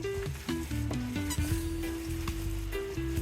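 Meatloaf mixture frying in a pan sizzles steadily and closely for a few seconds, with a melodic tone running underneath.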